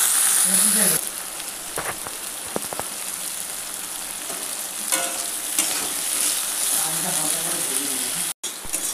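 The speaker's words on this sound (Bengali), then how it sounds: "তারপরে বিনস আর ক্যাপসিকামটা আমি একসাথেই ভেজে নিচ্ছি" Beans and capsicum sizzle and crackle steadily in a hot pan, with a few clattering stirs of a utensil, close and fairly loud.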